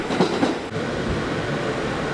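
A New York subway train near the Bay Parkway stop rolls along its rails with a steady, close rumble and faint rattling, heard alone without talk.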